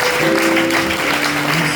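A church congregation applauds at a Sunday service, a steady wash of clapping that stays loud and even from start to finish, with a sustained tone humming underneath.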